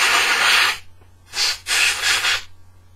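Compressed air blasts into a lawn mower carburetor, a long loud hissing burst followed by a short puff and then a longer sputtering blast, close up with no talk.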